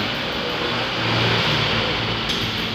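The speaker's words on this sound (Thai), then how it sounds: "เวลาใช้แก๊สแล้วเครื่องยนต์ก็เดินไม่เรียบ" A Suzuki Carry engine running rough on LPG gas drones steadily at close range, with a loud, uneven idle and no voices over it.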